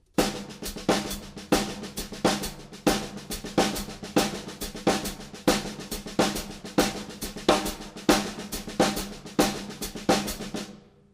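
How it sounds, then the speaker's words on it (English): A drum kit plays a quicker steady groove of accented snare strokes and hi-hat hits, evenly spaced and loud, running continuously to the end. "I'm going to play quarter notes with my hi-hat, and I'm going to play you the accents with the correct sticking"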